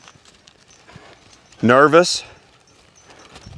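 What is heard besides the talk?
horses walking, hooves clip-clopping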